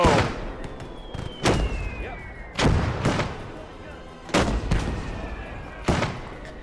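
Mortar fire and gunfire in the WWII video game Gates of Hell: a series of heavy booming blasts, roughly six over several seconds, loud and close, with rumbling tails and a faint whistling whine between them.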